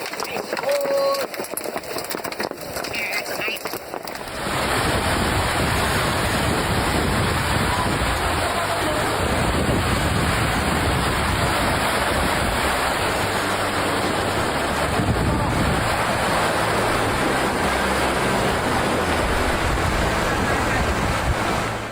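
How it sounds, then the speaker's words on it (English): A hailstorm pounds a lake with countless hailstones striking the water, a dense, loud, continuous roaring hiss that starts abruptly after a few seconds of quieter noise and holds steady throughout, with wind buffeting the microphone. "This intense hailstorm turned the entire lake into chaos as countless hailstones slammed into the water like an endless barrage."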